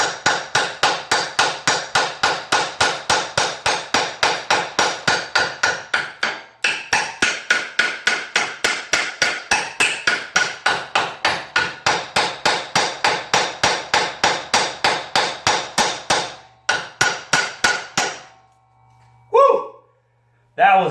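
Loud, close hammer blows strike the wheel hub arm of an ODES 800 side-by-side during hub bearing replacement, falling in a fast, steady run of dozens of metallic strikes with short pauses and a brief break near the end.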